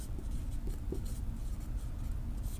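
A pen scratching across paper as notes are written by hand, soft and close, with faint irregular strokes under a low room hum.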